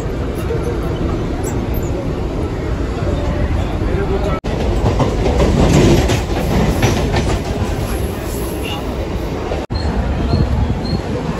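A Mumbai local train runs steadily, heard from inside a carriage: constant loud rumble and rattle of wheels on track for the whole stretch, with faint murmurs of passengers in the background.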